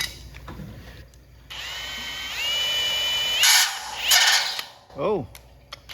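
Drill working out a bolt on a Model A Ford hot rod body, a close whining run that rises in pitch, then rattling bursts and a quick spin-down, with brief handling noises before and after.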